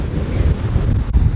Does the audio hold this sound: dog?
no